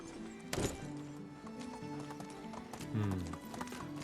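Horse hooves clip-clopping at a steady walking pace in the video game Medieval Dynasty, with a brief neigh and a faint voice in the background.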